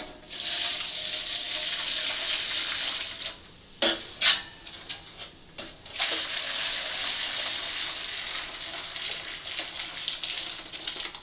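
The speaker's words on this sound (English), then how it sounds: "now I'm going to put the boiling water in the pan" Boiling water pours steadily into a roasting pan holding cans, a continuous splashing rush with a few clinks and knocks partway through.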